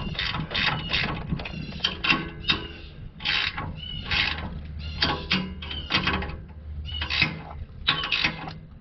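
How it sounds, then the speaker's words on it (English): Ratchet wrench tightening bolts on the catalytic converter of a Toyota Corolla, with quick bursts of metallic clicking and rubbing repeated in short rhythmic strokes, close by and fairly quiet. "I'm going to try to tighten these up evenly."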